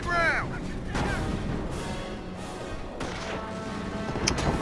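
Artillery guns boom in the World War II strategy game Company of Heroes, several heavy blasts spaced about a second apart with rumbling tails; a voice briefly sounds at the start.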